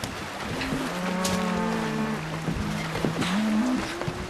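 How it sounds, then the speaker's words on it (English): Cattle moo and bellow in long, drawn-out calls, several animals overlapping, over a steady background rumble. "Can't you hear those cattle bellowing?"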